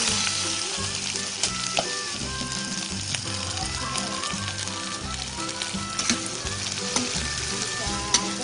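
Squid stir-fried in a pan, sizzling and crackling steadily and loudly from start to finish, with faint stirring scrapes underneath and no voices.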